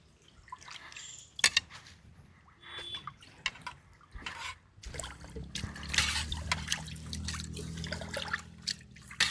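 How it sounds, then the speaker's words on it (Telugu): Rice is washed by hand in water in a home kitchen, with intermittent splashes, drips and trickles, swishing bursts growing busier toward the end, all fairly close and soft. "ఇప్పుడైతే రైస్ కడుక్కుంటున్నాం"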